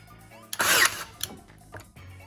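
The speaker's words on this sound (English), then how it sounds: "We've got our trusty Ryobi nail gun." A Ryobi nail gun fires up close with one loud, sharp burst of snapping air and mechanism, followed by a few softer mechanical clicks and handling sounds.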